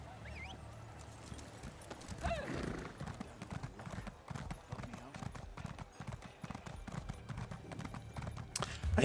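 Horse hooves clip-clop steadily while riding a horse in Elder Scrolls Online, with a brief whinny near the start, layered over game ambience and music at moderate level.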